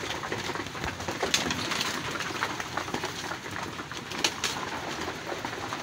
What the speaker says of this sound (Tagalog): Ito nga yung mga kalapatid, oh.